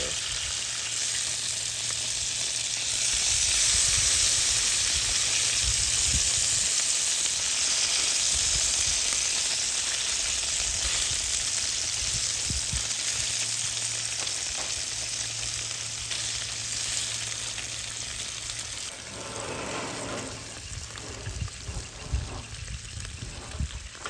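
Thick-cut Smithfield applewood smoked bacon fries in a very hot Lodge skillet on a Bass Pro Shops camp stove beside a lake, a loud, steady, close sizzle that runs the whole time with faint clinks near the end.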